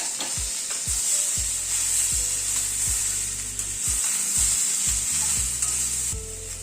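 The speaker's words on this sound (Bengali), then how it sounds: "সবজিটা একটু হালকা একটু ভেজে নিয়ে তারপর ডাটাটা অ্যাড করব।" Vegetables sizzle steadily in a hot pan, broken by repeated scraping stirs at a brisk, uneven rhythm, close and loud with no talking, while cooking pumpkin-leaf chorchori.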